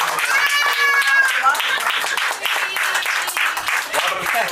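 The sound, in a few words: clapping at annaprasana ceremony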